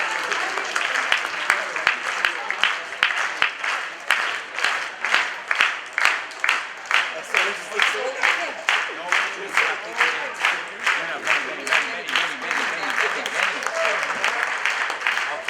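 An audience slow-claps in a steady, evenly spaced rhythm, about two claps per second, building crisp and loud with a faint crowd murmur and voices underneath.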